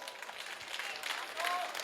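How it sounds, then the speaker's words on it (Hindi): Audience applause at a kavi sammelan poetry event: a brief burst of many hands clapping, moderately distant and steady, swelling slightly toward the end. "ताली बजाओ।"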